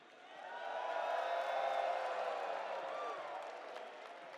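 A large crowd cheers and applauds at the EVO Fatal Fury: City of the Wolves grand finals, a steady wash of roaring noise swelling and then easing off, with no distinct voices on top.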